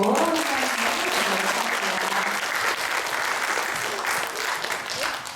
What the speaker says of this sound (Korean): 다 같이 몰아서 한꺼번에 박수로